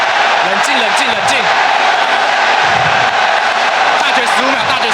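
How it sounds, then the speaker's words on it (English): A dense esports arena crowd roars and cheers steadily throughout a League of Legends match as AHQ pushes for victory, with a commentator's voice audible over the broad, continuous roar. "This crowd is lighting up and ready for AHQ to take a victory."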